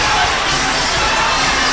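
Basketball arena crowd cheering for the home team Negros Slashers during a close game, a dense continuous roar of shouts and cheers, loud and steady throughout.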